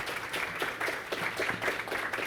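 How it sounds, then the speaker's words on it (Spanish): Audience at an industrial engineering talk applauds a speaker, a steady patter of moderate clapping with faint pulsing surges throughout. "Un aplauso."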